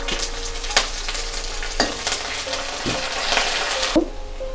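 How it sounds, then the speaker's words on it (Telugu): Onions and curry leaves fry in hot oil for a tempering, a loud, continuous sizzle close by with a few clinks and scrapes of stirring against the pan. "అలాగే ఆనియన్స్ కూడా వేసుకోండి వేసి పోపు ఎర్రగా యాగనివ్వాలి"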